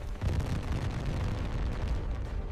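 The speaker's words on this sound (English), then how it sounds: "A powerful hydrogen explosion tore through the outer structure of Reactor Unit 1." A deep, rumbling hydrogen explosion at a nuclear reactor unit, a sustained low roar of blast noise filling the whole stretch with no speech over it.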